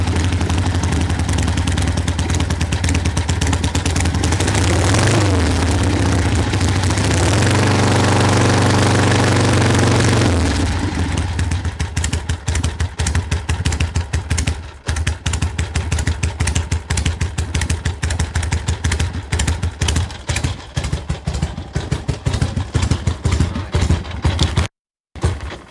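A 1974 Harley-Davidson Sportster motorcycle idles loud and close, starting with a heavy rumble that settles into a loping, uneven engine beat with rattling mechanical clatter, then cuts off abruptly near the end.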